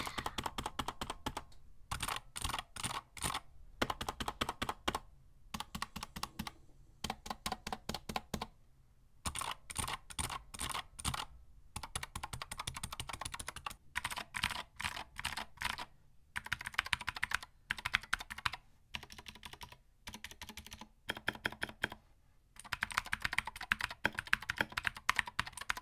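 Keys clack steadily on a modded mechanical keyboard fitted with new keycaps. Fast typing runs in bursts with short pauses, close and crisp, with no talking.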